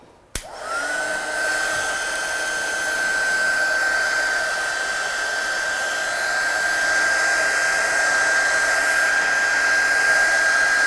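A hair dryer blows steadily to dry a watercolour wash on a stamped card, switching on abruptly and then holding a loud, even whir with a high whine for about ten seconds, no talking.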